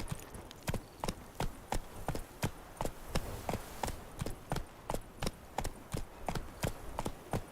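Roach, the horse in The Witcher 3, gallops in a steady, even rhythm, each hoofbeat a crisp, close clop repeating for the whole stretch.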